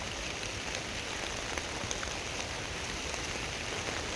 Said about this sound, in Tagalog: So may ulan